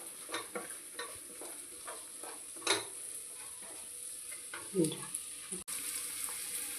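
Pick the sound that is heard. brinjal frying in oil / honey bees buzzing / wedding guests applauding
brinjal frying in oil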